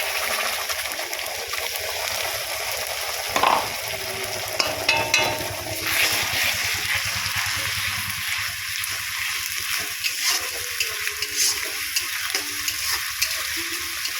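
Masala paste of ginger, green chilli, garlic, cumin and coriander fries in a pan for a potato, taro and fish curry, sizzling steadily while a utensil scrapes and stirs with occasional clinks, close by without talk.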